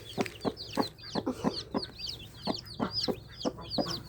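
A broody hen clucks repeatedly in short, rhythmic bursts, with her chirping chicks peeping high and quick over the top, fairly close.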